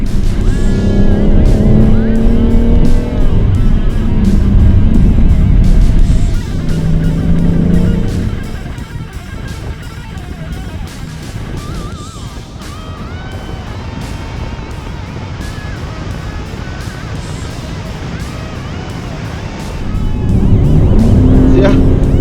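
A BMW M760 Li with 610 horsepower accelerates hard, its engine roaring loudly up through the revs, easing off midway, then surging again, with someone talking over parts of it.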